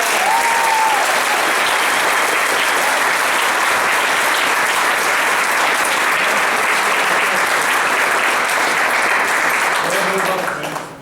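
A large audience at a high school Air Force JROTC change of command ceremony breaks into loud, sustained applause that fills the whole stretch and tapers off at the very end, with a brief voice near the start.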